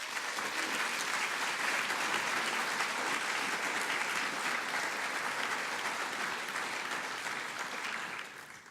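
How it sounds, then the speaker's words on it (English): Warm, sustained audience applause fills an embassy reception in Pretoria celebrating Georgia, a dense, steady wash of many hands clapping that holds evenly for several seconds before tapering off at the end. "let us give Georgia, its citizens, and the Embassy of Georgia a loud and warm applause"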